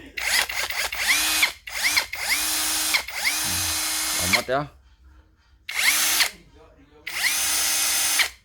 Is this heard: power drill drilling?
yes